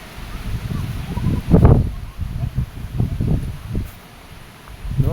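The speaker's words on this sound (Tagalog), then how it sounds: "pabugso-bugso ang lakas ng hangin" Gusty typhoon wind sweeps through talisay trees outside an elementary school in San Carlos City, rising and falling in rustling bursts with one strong gust, while a voice talks faintly underneath.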